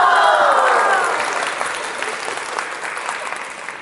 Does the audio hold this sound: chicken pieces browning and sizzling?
no